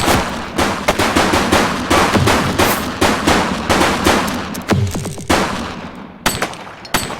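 A suspect firing a gun in the police game The Precinct: loud, rapid repeated gunshots in a dense volley, each sharp crack close and punchy, briefly pausing before a final few shots.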